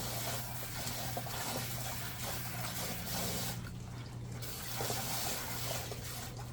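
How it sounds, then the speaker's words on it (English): Tap water running into a bucket to rinse out leftover cement after mixing, a steady close splashing flow with no talk. "I've got to rinse this bucket out, or I'll have dried cement all over it."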